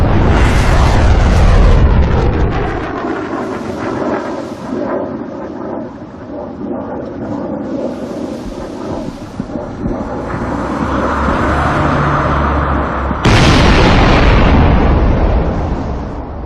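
Naval shellfire striking the Indonesian ship RI Macan Tutul: heavy booming explosions with a long rumbling roar and crackle, then a sudden sharp blast near the end, loud and sustained.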